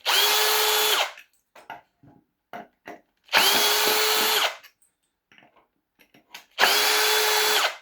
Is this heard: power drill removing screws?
yes